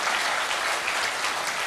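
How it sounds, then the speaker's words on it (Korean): An audience at a book concert gives a dense, steady burst of applause, many hands clapping together in a continuous wash of sound with no individual claps standing out. "우리 박수 한번 해주세요."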